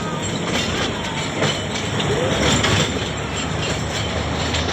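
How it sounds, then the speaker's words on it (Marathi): Toy train at Sayaji Raje Park amusement park in Akluj rumbles past with steady rolling clatter and rhythmic rail clicks, loud and close throughout. "हे रेल्वे चाललेली"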